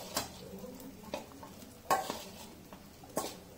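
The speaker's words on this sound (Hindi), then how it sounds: "मटेरियल को इतने आप अच्छी तरह मिक्स कर लेते हैं।" Lentil batter for dal chila being mixed, with a few scattered wet scraping strokes and knocks of a utensil against the bowl, quiet and close, with no voices.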